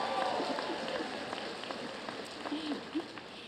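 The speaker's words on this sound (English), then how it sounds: "Come on, let's give yourself a round of applause" Audience at a graduate commencement for the College of Health and Human Services clapping, a dense, steady wash of applause from a crowd, with scattered voices underneath.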